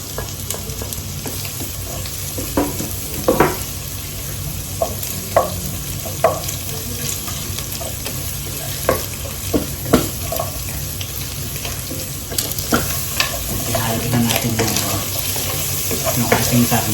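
Garlic sautéing in a pan for spicy laing with taro leaves, giving a steady sizzle broken by scattered stirring scrapes and clinks, close and moderately loud throughout.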